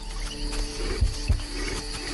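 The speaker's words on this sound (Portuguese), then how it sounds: "Leões." Lions in an African valley give low, rumbling roars, two deep grunting bursts rising over a steady wild outdoor background, moderately distant and fairly faint.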